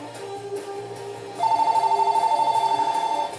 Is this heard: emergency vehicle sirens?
no